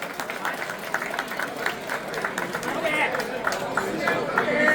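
A crowd at a Tin Hau festival banquet claps for guests honouring a lion dance, producing continuous scattered applause mixed with chatter and talk from people nearby.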